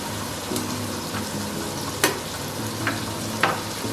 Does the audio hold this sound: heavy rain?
no